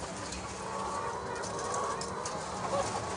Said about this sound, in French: Là, nous avons une colonie de 20 poules